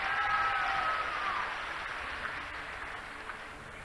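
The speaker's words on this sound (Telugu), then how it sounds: "మంచి ప్రభుత్వం అయితే గట్టిగా చప్పట్లు కూడా చెప్పండి" A crowd claps at a political rally in Peddapuram, a steady wash of applause that swells at first and slowly tapers off, with no clear voice over it.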